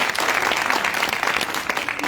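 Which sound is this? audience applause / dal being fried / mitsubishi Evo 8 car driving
audience applause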